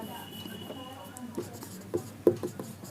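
Chalk or marker writing on a board in a classroom, with short scratchy strokes and taps close by, the last one louder, heard under a teacher's speech.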